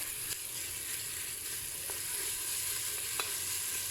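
Pepper paste and tomato paste are stirred into onions frying in a pan. The result is a steady, soft sizzle with a few faint scrapes of the spoon.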